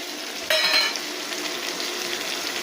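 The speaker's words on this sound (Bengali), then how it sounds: "মশলার বাটি ধোয়া জলটা দিয়ে খানিকটা দিয়ে টমেটোটা দিয়ে ভালো করে আরও কষতে হবে" Spice paste with tomato fries in a pan; a sharp sizzling burst erupts as liquid hits the hot pan, then settles into a steady, close crackling fry with no talk.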